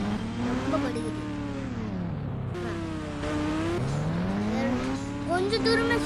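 A small car engine in a GTA India mod game drones and whines, its pitch sliding up and down as it accelerates and eases off, steady and close throughout.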